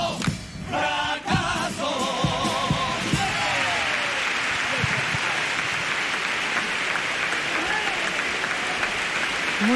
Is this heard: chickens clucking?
no